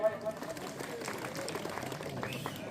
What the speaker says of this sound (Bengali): জোরে একটা হাততালি সবাই